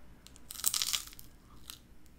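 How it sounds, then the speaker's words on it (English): Someone bites into a crunchy Polish snack, producing a loud, close crunch followed by a few smaller crackling bites, with no talking. "Crunchy. What is this? Should I bite it? I'm just gonna bite it."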